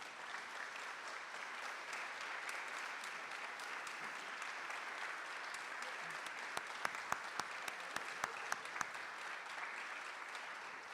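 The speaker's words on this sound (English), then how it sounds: "take a round of applause for everyone" An audience at the Lynn Classical High School alumni awards ceremony applauds with steady, distant clapping, joined near the end by a few sharper, closer claps.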